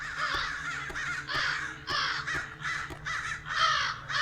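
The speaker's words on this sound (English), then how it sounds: "Those crows look very defensive." A group of crows in a video game caw repeatedly, loud, harsh calls overlapping in quick bursts close by, with no voices.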